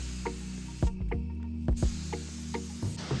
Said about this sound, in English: when I started spraying, it was spraying on too thick and it started dripping